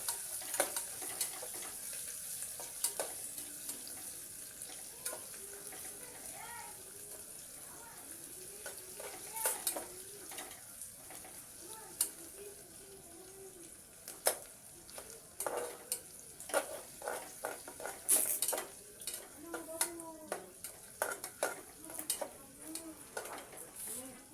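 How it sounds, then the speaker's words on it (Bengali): A little onion fries in a pan with whole garam masala: a steady low sizzle with clicks of stirring, and faint talk now and then in the background. "অল্প একটু পেঁয়াজ দিয়েছি দিয়ে এটাকে ভেজে নেবো ভালো করে"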